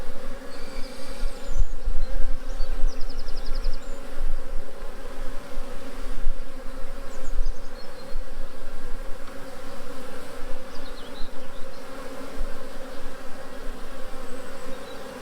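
Honeybee swarm in a Mini Plus hive, with frames of capped brood and stored honey, giving a steady close buzzing drone with brief higher whines of single bees passing near, no talk.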